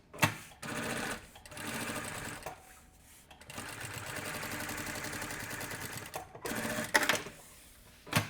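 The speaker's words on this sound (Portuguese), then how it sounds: "E passa uma costurinha de pesponto aqui." A sewing machine topstitching fabric, heard close as several runs of rapid, steady mechanical chatter separated by brief stops and small clicks.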